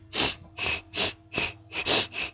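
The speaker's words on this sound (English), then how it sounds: "That's the sound of me breathing through my nose for the first time in 6" Seven quick, forceful nasal breaths in a row, each a sharp airy sniff or snort, evenly spaced and very close, after deviated septum surgery.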